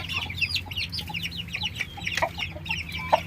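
Chickens kept in a backyard coop made of wooden sticks cluck steadily and close by, with overlapping calls and one louder squawk near the end.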